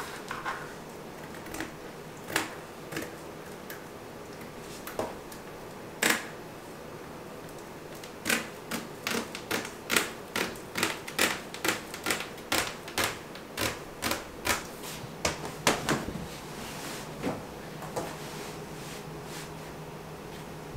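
Scissors or a cutter snipping through a bathroom rug to trim it to length, a series of sharp crisp clicks and snips, sparse at first then coming in a quick run, fairly faint and close, no talking.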